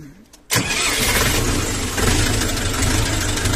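After a moment of near quiet, a 40-horsepower mini tractor engine cranks and catches abruptly, then settles into a loud, steady, chugging idle close by.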